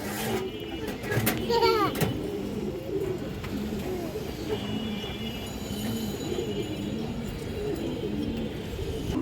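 Pair of Mukhi (muslodom) pigeons cooing in a loft, low soft coos repeating under steady background noise and a nearby voice, with a brief bird chirp early on.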